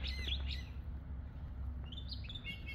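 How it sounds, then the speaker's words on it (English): Small birds chirping in short, high bursts, a few calls at the start and more near the end, over a steady low rumble in woods. "That's just a couple of birds talking to each other."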